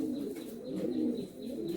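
Andhra pigeons coo continuously up close, low rolling calls overlapping in a steady murmur.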